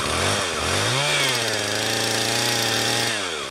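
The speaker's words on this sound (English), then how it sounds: "I'm just making sure my chainsaw is ready for the winter." A chainsaw runs close and loud, its engine revving up briefly then holding a steady, buzzing drone before cutting off at the end.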